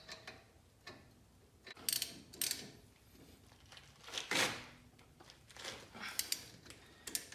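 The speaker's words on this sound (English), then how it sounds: "so I'm just using pliers" Pliers tightening a bolt on a Jeep brake assembly during a pad change, giving a few scattered metallic clicks and ratcheting scrapes at close range, fairly quiet with pauses between.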